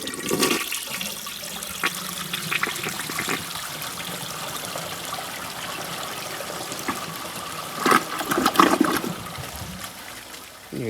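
A 1980 blue Eljer Emblem toilet flushes with a full rush of water that settles into running and trickling refill. A brief louder surge near the end marks the flapper shutting.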